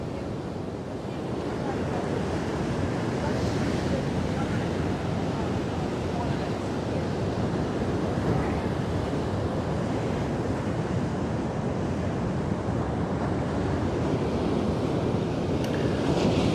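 Ocean surf rolls in at St Michael's Beach on South Africa's KwaZulu-Natal South Coast. A steady, continuous wash of breaking waves mixes with gusty wind buffeting the microphone, and no one speaks.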